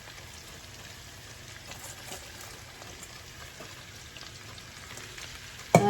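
Cabbage frying in a pan with onion, a steady soft sizzle and crackle running throughout at moderate level, with a brief louder clatter right at the end.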